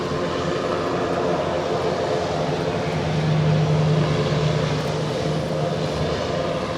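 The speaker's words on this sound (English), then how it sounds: "we just had Avianca A320 in the Star Alliance livery coming in from San Salvador" An Avianca Airbus A320 in Star Alliance livery landing at LAX, a loud, steady jet engine roar that swells slightly midway, heard alone.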